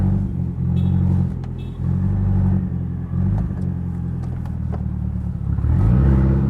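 A 2015 BMW 228i with a UniClutch Track clutch driving, its engine a loud, close low rumble with rising revs and brief dips between gears, no talk.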